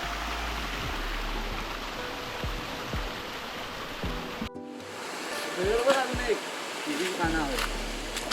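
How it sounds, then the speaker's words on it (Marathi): Steady rushing water, like a river flowing, fills the clip and cuts off briefly, then returns under scattered voices and clatter. "अजूनही नदीला खूप पाणी आहे"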